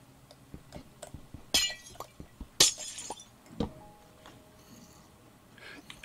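Glass blocks shattering in Minecraft, two sharp breaking crashes close together followed by a third fainter break, amid scattered footsteps and clicks of play.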